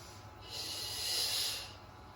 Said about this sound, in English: you're going to inhale here